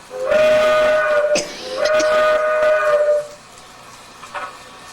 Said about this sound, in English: button here blows the whistle